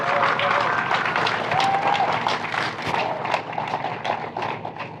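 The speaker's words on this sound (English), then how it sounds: "Let's give them one more round of applause" Audience applause for a board and team at an arts hub dedication ceremony, a dense, steady burst of clapping that is loud and continuous throughout, fading slightly toward the end.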